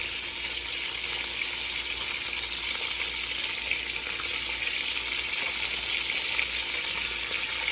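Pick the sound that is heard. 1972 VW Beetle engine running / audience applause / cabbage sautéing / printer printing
cabbage sautéing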